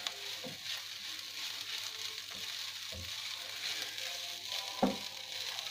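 Nasi goreng mengkudu frying in a pan, a soft steady sizzle with a few scraping stirs and a sharper clatter near the end, no voices.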